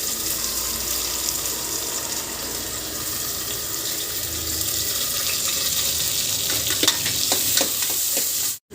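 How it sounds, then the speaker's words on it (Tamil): Long-sliced onions sizzle in hot oil in a pan for a Chettinad mutton curry, a steady loud frying hiss with some stirring clatter toward the end before it cuts off. "அதை வந்து இந்த ஆயிலில் போட்டு ஃப்ரை பண்ணிக்கோங்க."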